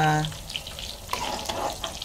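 Eggplant sizzles and crackles in hot oil, a steady frying hiss with scattered pops, fairly close and with no talking.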